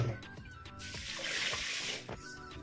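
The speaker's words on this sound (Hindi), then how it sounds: "चावल भीगे तो थोड़ी देर, इसलिए अच्छे से वॉश करके रख लेना है हम लोग" Rice being washed by hand in water in a home kitchen, with close sloshing and swishing over steady tap-like running water that rises midway, no talk.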